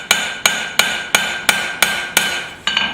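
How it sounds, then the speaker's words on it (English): Hammer blows ring out on a forged scrap-steel knife as bevels are shaped, eight or nine bright metallic strikes in an even rhythm about a third of a second apart, close and clear with no talking. "Just putting a really short, steep bevel in it."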